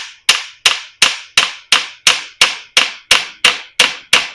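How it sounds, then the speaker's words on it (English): A steel hammer strikes a stuck PTO part on a Case 430 tractor in a steady series of about twelve sharp, loud metallic taps, evenly spaced and close up. "Like a steel hammer on that piece right there."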